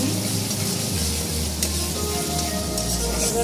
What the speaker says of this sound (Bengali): এবার আমি ভালো করে কষিয়ে নেবো মশলাটাকে।